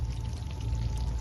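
Ghee being poured into a pan of chicken chaap, a brief close, steady pouring trickle.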